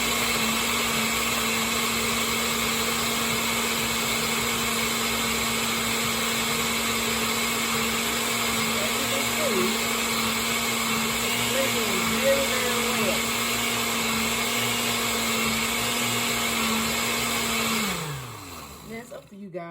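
A countertop blender runs loud and steady while making a smoothie, giving a constant whirring drone with slight pitch dips before it winds down and stops near the end.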